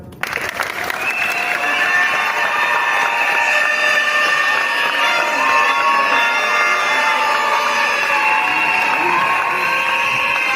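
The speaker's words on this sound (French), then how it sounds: "Il mérite ici et maintenant nos acclamations" An audience at a state diploma graduation ceremony in a school bursts into loud, sustained cheering and applause, with shouts and whoops layered over dense clapping that holds steady throughout.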